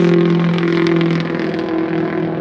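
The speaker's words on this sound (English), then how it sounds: "Dang old noisy car, they flipped it into cash." An old noisy car engine hums and revs steadily nearby, a loud droning tone with a slight rattle and no voices.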